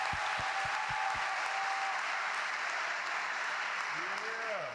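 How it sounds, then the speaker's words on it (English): An audience applauds steadily at a student athletes' summit forum, dense continuous clapping that holds at an even level, with a few low knocks near the start and a brief tonal sweep near the end. "Let's clap it up."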